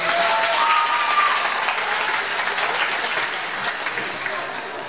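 Loud, sustained audience applause at a school afternoon gathering, a dense wash of clapping that tapers slightly toward the end, with a faint voice or tone near the start.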